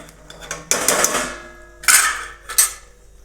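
A spoon scrapes and clinks against a metal pan while Maggi noodles are stirred with coriander, giving a few distinct, close metallic knocks and scrapes with short pauses between.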